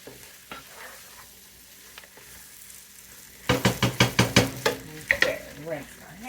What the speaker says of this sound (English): Then give that a little stir.